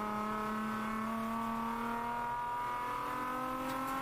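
The Whelan Corvette race car of George Smith drones steadily at high revs during a race, its engine tone slowly rising with a faint squeal near the end, heard alone.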